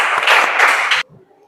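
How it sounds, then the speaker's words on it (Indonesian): Students in a classroom clap for their classmates, a short loud burst of many hands for about a second, then it stops abruptly, leaving a faint voice in the quiet. "Tepuk tangan untuk kawan-kawannya"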